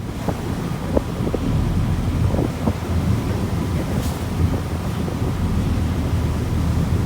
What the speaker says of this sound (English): I'm going to include a clip here of what the waves look like